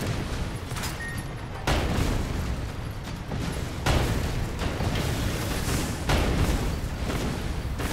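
Rockets blasting in the video game Sand Land, a series of heavy booming explosions in quick succession, each burst loud and rumbling with a sustained roar between hits and no talk.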